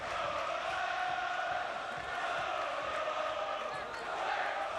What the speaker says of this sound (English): When the crowd is up and the noise levels go up